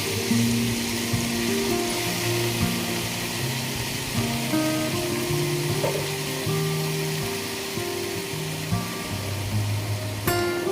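Fenugreek (methi) leaves and other chutney ingredients fry in a pan with a few pieces of tamarind, giving a steady, close sizzle with some faint clinks throughout.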